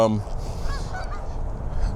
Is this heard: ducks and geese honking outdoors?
yes